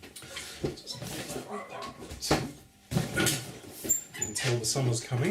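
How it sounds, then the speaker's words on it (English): Several dogs bark and yip in short irregular bursts close by, some whimpering between barks, while a person talks over them. "Excuse the dogs."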